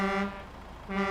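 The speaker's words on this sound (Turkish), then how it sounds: "Oyunun klasik kendi kornalarından." Two short blasts of a deep, tonal truck horn in Euro Truck Simulator 2, with a brief gap between them, loud and close.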